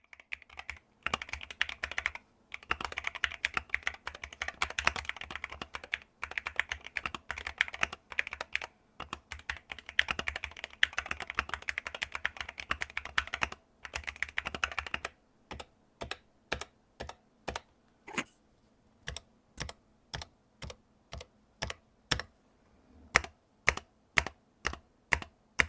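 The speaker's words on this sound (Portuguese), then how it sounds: "O som do clique é agradável e com sensação macia, lembrando bastante o som e a tatilidade dos switches Gateron Silver." Steady typing on a Drunkdeer A75 mechanical keyboard with soft, smooth switches, first as a fast continuous flurry of keystrokes, then as slower, evenly spaced single presses, close and clear.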